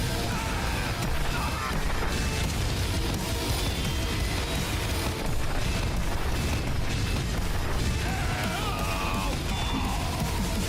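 Pipe grenade explosions from the video game Team Fortress 2 boom and crash continuously in dense, loud bursts, layered over constant game noise with no clear pause.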